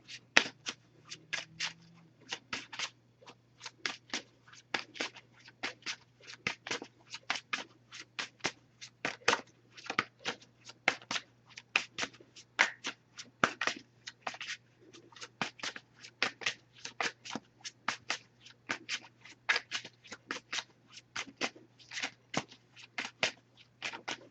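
A Messages of Love oracle card deck is shuffled and a single card pulled, with a long run of quick, crisp riffling flicks repeating steadily and close over a faint low hum.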